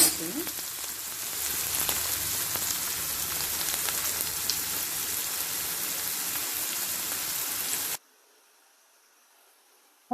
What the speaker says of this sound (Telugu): ఫ్రై అవుతున్నాయి ఇప్పుడు కొంచెం ఇంకా ఫ్రై అవ్వాలి